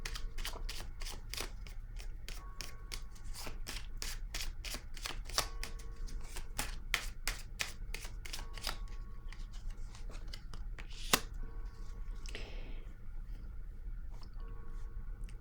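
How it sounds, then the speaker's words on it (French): Cards come off a deck in a quick run of crisp, rhythmic flicks and snaps, close and fairly quiet, then the flicks thin out to a few scattered clicks. "je vais piger une autre carte ici"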